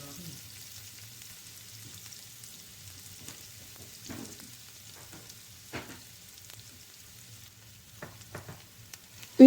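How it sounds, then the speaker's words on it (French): Half an onion, finely chopped, fries in vegetable oil in a pan, a soft steady sizzle with faint crackles and occasional stirring scrapes, fairly quiet throughout. "nous allons couper un demi-oignon en petits morceaux et le rajouter et le faire cuire avec l'huile"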